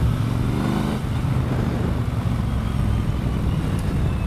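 A Triumph Bonneville Bobber with a 270-degree single overhead cam engine rumbles steadily while riding, a loud close low throb mixed with wind rush, with no voices.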